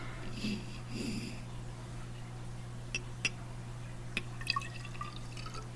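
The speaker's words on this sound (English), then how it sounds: "I'll take this water-filled test tube and pour it into this graduated cylinder." Water from a test tube trickles and drips into a graduated cylinder, with small splashes and a few sharp drops over a steady low electrical hum.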